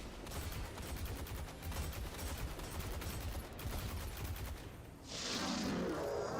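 Dense rapid gunfire from hand cannon weapons in a shooter video game, a continuous loud clatter of overlapping shots for about five seconds before shifting into a brighter hiss and rumble at the end.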